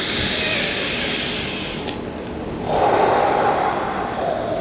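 Full deep breaths during a guided breathing exercise, a long airy inhale followed by a louder, rushing exhale, close to the microphone with no talking.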